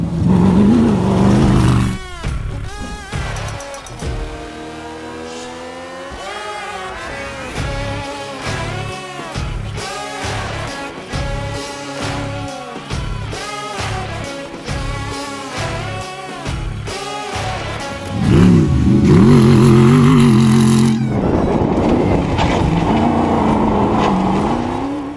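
A loud rear-mounted V8 in a 1970s Baja Beetle revs up and down repeatedly in rhythmic bursts with rising pitch, then settles into a heavy, rough, close-up idle rumble.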